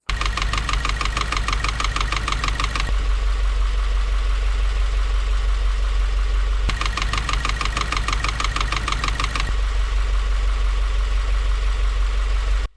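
Subaru WRX engine running before the repair of its engine noise, a close idle with a loud rapid metallic knocking that comes and goes in two long bursts over a steady low drone.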